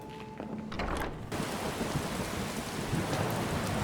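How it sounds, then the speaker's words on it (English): Steady hiss of heavy rain in Skyrim swells in after a moment and pours on continuously, broad and loud, with no voices. "it's raining"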